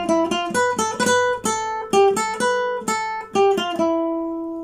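A guitar plays the second phrase of a melody: a run of clear, ringing single notes at a moderate pace, with the last note left to sustain and fade, heard alone and close.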